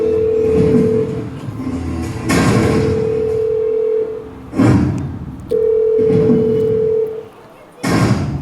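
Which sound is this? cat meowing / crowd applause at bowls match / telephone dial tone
telephone dial tone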